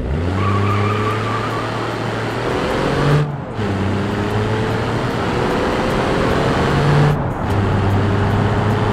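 A car in BeamNG.drive accelerates at full throttle, its loud engine tone climbing through gears, with two clear shift breaks at about three and seven seconds.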